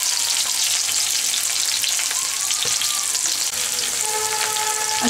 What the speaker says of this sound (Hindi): अच्छे से इन सबको हिलाएंगे